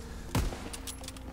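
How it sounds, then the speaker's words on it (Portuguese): A single sniper rifle shot in a first-person shooter game, a sharp close report with a short tail, followed by faint game effects. "já errei dois tiros aqui que não existe"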